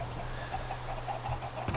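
A Minecraft chicken clucks softly in a short series of close, evenly spaced clucks over a low steady hum, with no talking.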